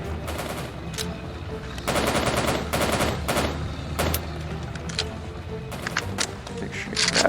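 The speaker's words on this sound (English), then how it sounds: "They're shooting at you." Gunfire in a Soviet soldier video game, a dense run of bursts and volleys that swells and fades through the clip, loud and close, with enemies firing back.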